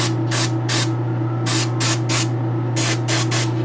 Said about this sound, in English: I'm spraying heavy on these